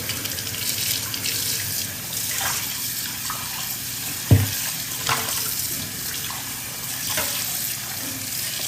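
Tap water runs steadily into a sink while a pot lid is washed, a continuous close hiss broken by a few sharp clinks and knocks of the lid against the basin.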